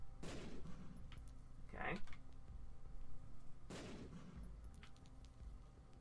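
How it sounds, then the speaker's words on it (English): Bombs go off in The Binding of Isaac, set against a donation machine: two sharp, booming bursts with decaying tails about three seconds apart, with a brief spoken word between them. "we are going to bomb our donation machine"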